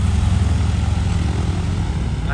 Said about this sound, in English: That's the second plane coming in here.